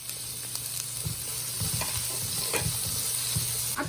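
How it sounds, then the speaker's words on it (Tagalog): Ginger, garlic and tomato sautéing in a pan, a steady close sizzle with repeated scraping stir strokes of a utensil against the pan, no talking. "Atong iapil og gisal ang atong subak."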